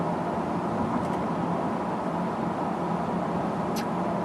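A 2012 Mercedes E550 4Matic on a short test drive, with a steady, continuous broadband road and engine rumble from inside the cabin and a couple of faint brief ticks, no talking.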